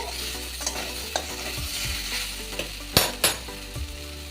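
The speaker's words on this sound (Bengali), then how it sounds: "নারকেল কোড়াটাও ভালো করে ভেজে নেব সব মশলা ভালোভাবে ভাজা হয়ে গেছে" Grated coconut and spices fry in a pan with a soft sizzle while a spoon stirs, scrapes and knocks against the pan in sharp bursts; no one speaks.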